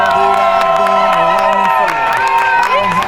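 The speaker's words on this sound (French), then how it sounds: "Veuillez applaudir, s'il vous plaît." Wedding guests at a civil marriage ceremony cheer and clap the moment the couple is pronounced married, a loud, dense crowd roar with sustained raised voices filling all three seconds.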